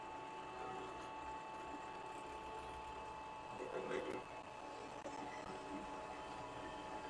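A WEN 12-inch variable-speed benchtop drill press runs at its top speed of 3200 RPM, giving a faint, steady mechanical whine and hum with no break throughout.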